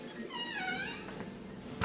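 A cat in a cat cafe gives a short, faint meow that rises and falls over a soft room hum, with no talk.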